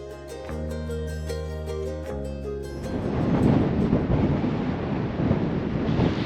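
Strong wind blows outdoors in Morocco, a broad rushing roar that builds and gusts. Sustained tonal humming fills the first two seconds before the blustery noise takes over.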